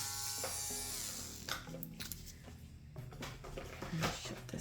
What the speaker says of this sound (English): I'm gonna shut this drill off because this has got to be big enough by now.